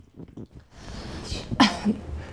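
A single sharp cough bursts out after some faint breathy sounds, close and fairly loud, followed by a short throaty exhale.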